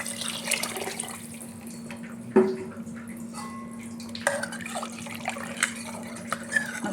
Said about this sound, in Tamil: இப்போ தண்ணியை ஊற்றிடலாம்.